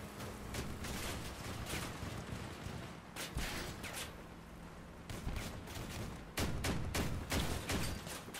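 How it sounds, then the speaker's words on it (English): Heavy weapon fire in the vehicle combat game Crossout, including advanced cannons, with repeated sharp booming blasts in irregular bursts over a busy battle din, loudest near the end. "Oh, he's got two advanced cannons."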